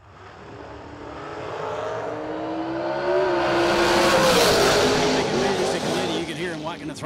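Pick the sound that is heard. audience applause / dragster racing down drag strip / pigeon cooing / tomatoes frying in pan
dragster racing down drag strip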